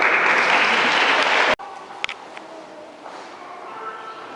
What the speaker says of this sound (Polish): Teraz oklaski dla Patryka.